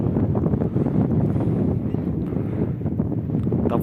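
A northern wind blowing straight at an ice-fishing spot on a frozen river channel, heavy continuous rumbling gusts battering the microphone, loud and close with no other sounds standing out.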